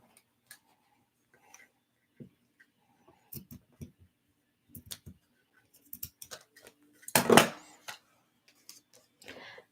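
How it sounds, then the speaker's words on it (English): Scattered small clicks and snips, scissors cutting in short bursts, with one louder rustling crunch partway through, close and otherwise quiet. "I need scissors."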